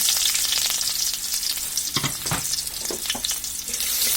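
Onions frying in hot oil in a wok, a steady close crackling sizzle throughout with a few louder stirring scrapes and pops in the middle, no voices.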